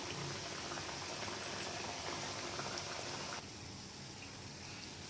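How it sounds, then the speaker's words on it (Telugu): Sweets frying in hot oil over a low flame until browned give a steady, dense sizzle and bubbling that runs throughout, close and even, dropping slightly in level near the end. "ఇట్లా బ్రౌన్ కలర్ వచ్చే వరకు వేయించుకోవాలండి"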